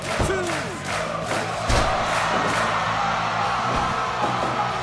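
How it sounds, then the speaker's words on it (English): A backyard wrestling crowd cheers and yells for the People's Champion, a loud, continuous roar of shouting voices with whoops rising over it. "Crowd getting behind the People's Champion."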